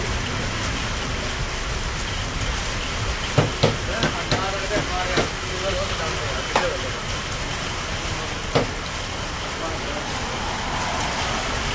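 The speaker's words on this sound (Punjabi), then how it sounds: "ਦੇਖੋ ਤੋਂ ਫੀਲ ਕਰ ਸਕਦੇ ਆਪਾਂ ਕਾਰ ਦੇ ਉੱਪਰ ਕਿਵੇਂ ਰਿਮ ਜਿਮ ਪੈ ਰਹੀ ਹੈ" Light rain patters steadily on a car roof, a constant soft hiss broken by a few sharper drips and taps.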